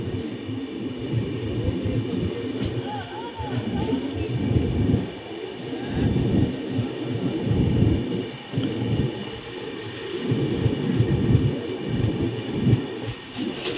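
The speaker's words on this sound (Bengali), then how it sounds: "খুড়াই থেকে ছেড়ে দিল ট্রেন" A steady low rumble with rhythmic clacking from a train departing Kharagpur station, continuous and fairly close, with no voices.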